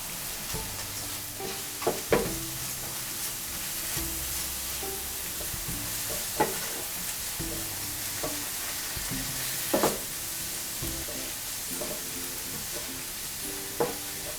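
Coriander powder masala for a mushroom chicken roast is stirred and sizzling in a pan, with a steady frying hiss and repeated scraping stirs, with no talking.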